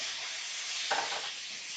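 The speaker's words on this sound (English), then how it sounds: "The sound of my pan has changed, so I'm going to open it up and take a peek and see what that means." Food frying in a covered pan for pizza curry, a steady broadband sizzle with a brief louder flare near the middle, close and continuous with no talk.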